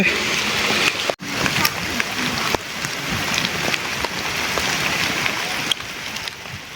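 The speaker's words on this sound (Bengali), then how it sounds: "বৃষ্টি হচ্ছে" Rain falls on a trail near Lasubon gorge and a Khasia village in Sreemangal. A steady, close wash of raindrops carries a few brief dips and soft splashes.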